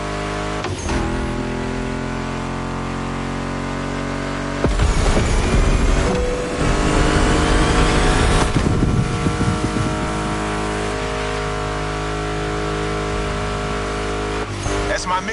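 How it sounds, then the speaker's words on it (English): Muscle car engines roar in a racing video game, a steady droning hum that swells into louder revving and acceleration midway, with music playing underneath. "Meshes well with the sound of the engines, you feel me?"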